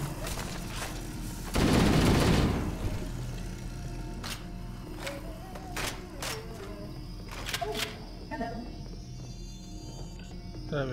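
Explosive gunfire in the video game Halo: Combat Evolved: a loud, roaring blast burst early on, followed by scattered sharp shots and pops over a steady game background, with someone talking quietly over it.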